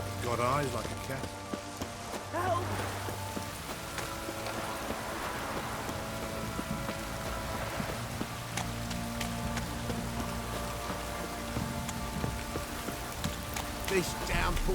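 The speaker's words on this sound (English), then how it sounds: "This downpour's a bastard, it is." Heavy rain pours steadily in The Witcher 3, a dense hiss of drops on surfaces with a low rumble beneath, while voices talk over the downpour.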